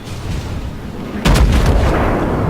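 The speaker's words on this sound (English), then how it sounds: "the Cleveland turns around at this point, firing a couple of pot shots of high explosive on the way out" Cruiser Cleveland fires high-explosive shells in a naval warship game, one loud booming report midway that cuts through a low rumbling background and rolls on in a heavy sustained tail.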